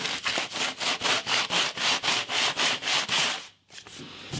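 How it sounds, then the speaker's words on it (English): Sandpaper scrubbing by hand over old peeling paint on a wooden banister, a steady rhythmic back-and-forth rasp of about a dozen close strokes before it briefly stops. "Maybe I'll just use the sandpaper as it is."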